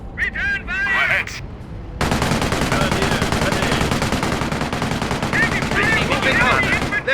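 Dense automatic and rifle gunfire rattles continuously in a Company of Heroes battle on Highway 69 during Operation Market Garden, loud and close, with shouted soldier voices briefly at the start and again near the end.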